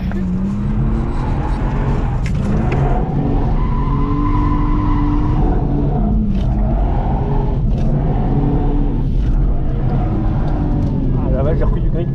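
A Lexus drifting on a track with sustained, loud tire squeal and skidding over a steady engine drone, the squeal rising and falling through the slides as people talk in the car.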